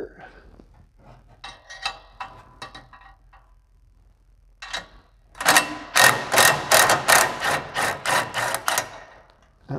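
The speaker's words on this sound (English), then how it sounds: "So I'm going to also switch to the impact driver now that I have them cracked loose." An impact driver hammers rapidly in a sustained burst, backing a bolt out of the secondary catalytic converter on an Aston Martin DB9, preceded by a few short ratchet-like clicks and quiet shuffling.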